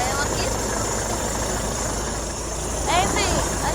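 A vehicle engine idles with a steady, even rumble at close range, running continuously while a person speaks faintly over it.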